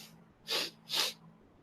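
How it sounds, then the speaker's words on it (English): Two quick, breathy sniffs or snorts through the nose, close and clear, with a faint hum in the background. "I'm getting the sniffles."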